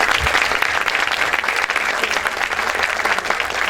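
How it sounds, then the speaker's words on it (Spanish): A university audience applauds steadily after a talk on school leadership, with many hands clapping in a continuous, even wash and no voices over it. "Un aplauso."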